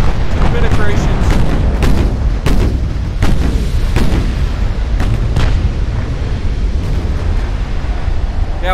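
Naval gunfire and torpedo hits in Ultimate Admiral Dreadnoughts as the Ohio engages Japanese warships: a loud, relentless barrage of booming shots and explosions, with sharp reports spaced irregularly over a constant heavy rumble.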